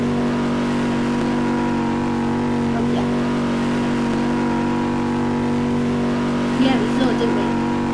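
A Lamborghini engine drones and revs during a race in Roblox Vehicle Tycoon, a steady mechanical hum that holds level with a brief rise near the end.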